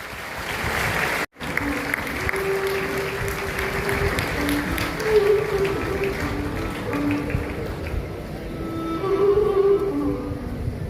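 Loud applause from the crowd at a Dharmasthala Janajagruti Vedike general members' convention as a new president takes over, a sustained dense clapping roar that briefly cuts out near the start, with faint tonal sound underneath.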